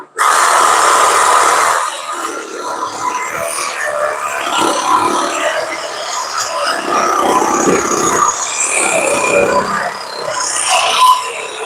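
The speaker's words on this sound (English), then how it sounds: "So we're cutting off the small 1-inch pipe, or actually really 3/4 pipe" Power tool cutting a small 3/4-inch pipe off a Honda turbo header, a continuous harsh grinding whine that stays loud and steady through the whole stretch, close up.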